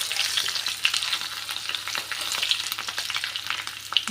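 Potato pieces frying in hot oil while being cooked for a rohu fish curry, a continuous close crackling sizzle with irregular pops and stirring scrapes, steady and unbroken.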